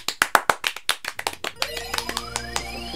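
One person claps his hands in sharp, close, fairly loud strokes, about a dozen in a quick uneven run, before a tone from a Kingdom Hearts II Final Mix game rises in and sparse taps continue.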